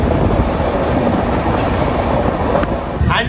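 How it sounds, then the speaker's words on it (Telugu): Steady rumble of a moving passenger train on the Tirupati to Kacheguda route, a dense continuous roar of wheels and carriage noise heard from inside, loud and unbroken with no speech. "ట్రైన్ అయితే స్టార్ట్ అయిపోయింది."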